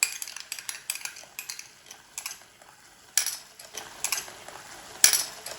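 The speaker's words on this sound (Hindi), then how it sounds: "और अच्छी तरह से इसको मिक्स कर देंगे।" A spoon stirs ketchup and black pepper in a pan for a mini pizza topping, making repeated light metallic clinks and scrapes in an uneven rhythm, close and fairly quiet, with no talking.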